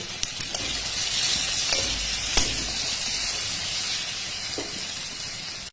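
Mango leather powder chutney cooks in a hot pan with a continuous bright hiss and sizzle, broken by a few sharp taps and scrapes of a stirring spoon; no one speaks.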